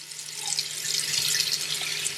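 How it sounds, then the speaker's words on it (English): Tap water runs steadily into a pot in a kitchen sink, a close, continuous hissing splash that builds slightly as the pot fills. "you're going to get this in the sink, and you're going to put some water in it"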